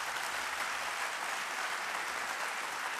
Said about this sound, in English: Give that a round of applause, folks.